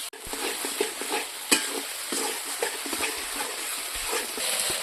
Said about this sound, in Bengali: এখন আমি ভালো করে তেল পেঁয়াজের সঙ্গে মশলাটা ভালো করে কষিয়ে নেব।